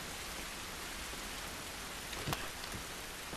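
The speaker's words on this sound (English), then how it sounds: "This rain ain't gonna do us any good." Rain in the video game The Last of Us Remastered, a steady dense hiss of rainfall on surfaces with one sharp brief crackle near the end and no voices.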